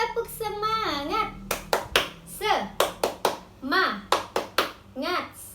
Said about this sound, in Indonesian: Kita tepuk semangat dahulu.